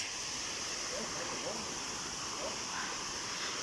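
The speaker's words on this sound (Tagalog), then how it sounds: "Dito na naman kami sa kabilang falls." A waterfall near Absam in Tirol, Austria gives off a constant, dense roar of rushing water that fills the whole clip, loud and steady with no breaks.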